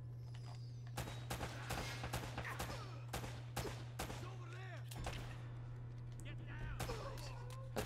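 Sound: gunfire in the video game Uncharted: Drake's Fortune

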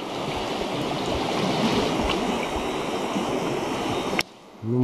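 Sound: rushing mountain river in spring flood

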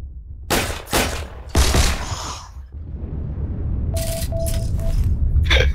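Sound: gunfire in the video game Heroes & Generals

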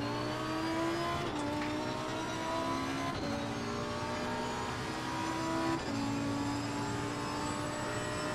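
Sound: Lamborghini race car engine accelerating, Assetto Corsa Competizione video game

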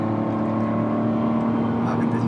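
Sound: Kia Ray car engine accelerating

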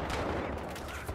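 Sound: gunshots in video game Battlefield Hardline

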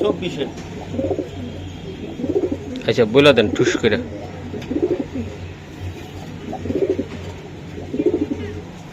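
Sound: racing pigeons cooing

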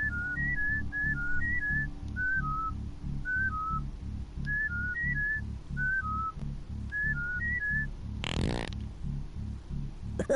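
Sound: character whistling in Oddworld video game

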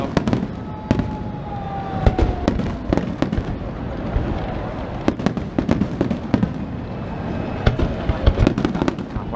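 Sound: fireworks at the Redentore festival in Venice

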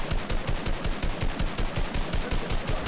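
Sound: gunfire in the video game Fortnite

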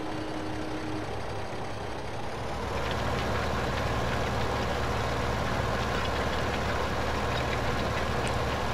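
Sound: tractor engine while cultivating uphill in Farming Simulator 15 video game

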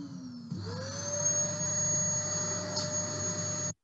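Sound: vacuum cleaner recording

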